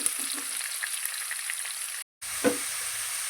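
Chopped green chili and curry leaves frying in oil, a continuous bright sizzle with small pops, briefly cut off by a short gap, then a clunk as it resumes.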